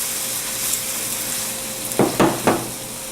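Seasonings sizzle and fry in a pan for a mushroom sauce, a steady close crackle with a few louder bursts of stirring near the end.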